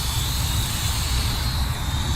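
A Flyzone Fokker Dr1 RC model triplane flies at about 30% throttle, its small electric motor and propeller giving a steady, even drone that holds at one level throughout.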